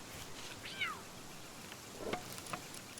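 A cat-like pal creature in the game Palworld gives two short, chirpy meows about a second apart, fairly close and clear over a quiet game background.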